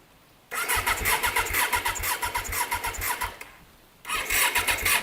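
A Suzuki RF900R motorcycle engine cranks over loudly and close up in a steady rhythmic churn for about three seconds, stops briefly, then cranks again.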